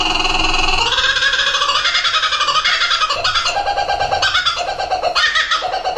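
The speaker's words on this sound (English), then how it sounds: "Kookaburra." Kookaburra calling in a loud, continuous run of rising and falling cackling, laugh-like bursts, heard alone and close for the whole stretch.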